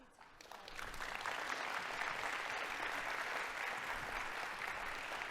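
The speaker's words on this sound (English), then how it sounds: "A premature applause" Conference audience at a dairy summit bursts into applause after a brief lull, the clapping quickly building to a full, sustained wash that holds steady to the end.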